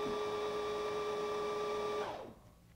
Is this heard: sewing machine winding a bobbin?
yes